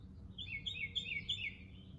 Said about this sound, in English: Hear those birds singing.